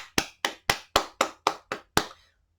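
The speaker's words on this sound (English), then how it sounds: "I'm clapping for you." Eight sharp, close hand claps in a steady, even rhythm, each cleanly separated by short pauses, in an otherwise quiet room.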